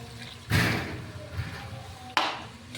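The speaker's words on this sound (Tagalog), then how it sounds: "Maglalagay tayo ng tubig." Water poured into a cooking pan over chicken cubes in a home kitchen, a splashing burst lasting about a second and then a second shorter splash, moderately loud and close with no talk.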